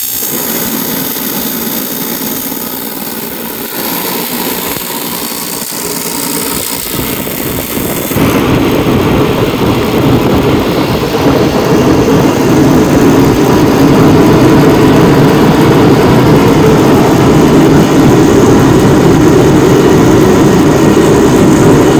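A Mr. Heater Contractor Series propane heater runs in a garage, starting as a steady breathy hiss and then rising to a louder, fuller roar that holds evenly, close by and with no talking.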